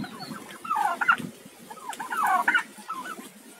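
A female turkey on a farm makes soft clucking, gobbling calls in two short bursts. The calls are nearby and moderately quiet over faint background noise, with no talking.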